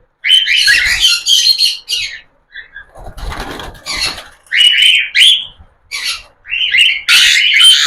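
Baby cockatiel chicks give loud, close, harsh screeching calls in repeated bursts, with a brief rustle and flutter of movement in the middle.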